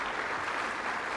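A studio audience at a televised music show applauds a prize winner, a brief burst of steady, moderately loud clapping heard alone.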